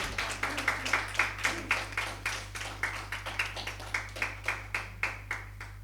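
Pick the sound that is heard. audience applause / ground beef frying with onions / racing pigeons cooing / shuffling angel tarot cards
audience applause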